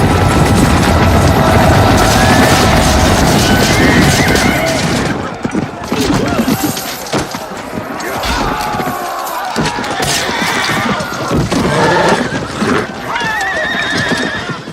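Cavalry horses charge and neigh during the Battle of Stirling sequence in the film Braveheart. A loud thunder of galloping hooves carries repeated whinnies and the clash of battle, with shouting soldiers mixed in throughout.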